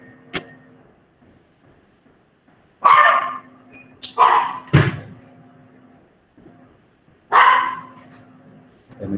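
A pet dog barks after a knock at the door, several loud, close barks in separate bursts with quiet gaps between them, over a faint steady electrical hum.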